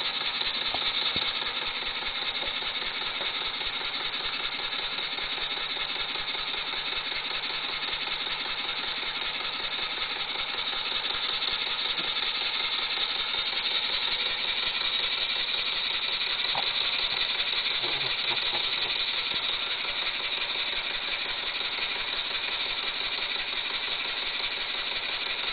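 A Stuart Real model steam engine runs at speed, giving a steady, continuous mechanical chug with fine rapid beats, close and even throughout with no talk.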